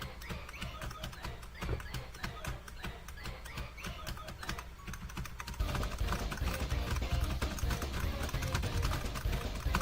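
Rapid clicking of computer keyboard keys during play, a dense, steady stream of close taps that grows busier and louder partway through, with no talk over it.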